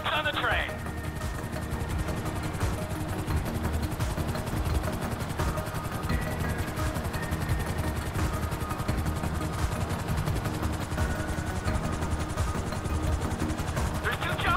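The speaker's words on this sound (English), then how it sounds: "There's two choppers coming toward my train." Two helicopters approach a train in the Grand Theft Auto 5 video game, their rapid rotor chop running steady and loud for the whole stretch, with a voice speaking briefly over it.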